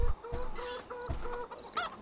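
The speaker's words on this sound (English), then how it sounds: "now run towards the little chicken with the eggs under it" Chicken clucking in the Farming Simulator 15 video game, several short clucks repeating in an uneven rhythm over steady game background noise, fairly close and clear.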